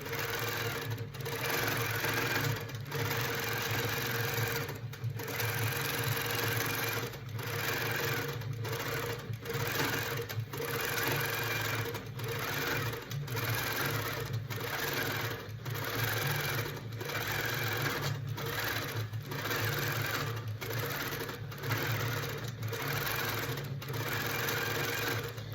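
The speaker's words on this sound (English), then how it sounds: "you can see how that is stitching across those edges and cropping wherever it needs to" A Handi Quilter Pro Stitcher quilting machine stitches steadily and loudly, its fast needle clatter running unbroken with faint regular pulses and no talk.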